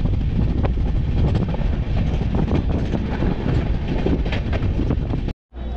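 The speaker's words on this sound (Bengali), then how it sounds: "এইভাবে আস্তে আস্তে আমাদের ট্রেনটা চলছে" The 13152 Jammu Tawi Express rolls slowly along the rails, its loud, continuous rumble and rattle of carriages heard from on board, with a brief dropout near the end.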